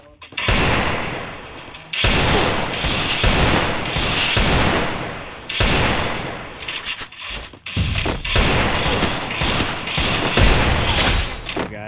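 Loud video game gunfire in bursts of rapid automatic shots, several long sustained volleys separated by brief pauses, dense and close throughout.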